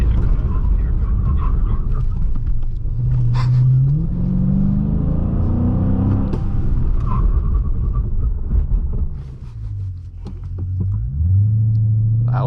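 Loud engine of a car driven hard over a speed bump, rumbling and rising in pitch as it revs and accelerates, with excited voices talking over it throughout.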